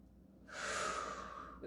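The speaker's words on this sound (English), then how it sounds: "Good, nice deep breathing." One deep, slow breath during a standing lower-body exercise routine, a soft airy rush rising then fading, close and quiet.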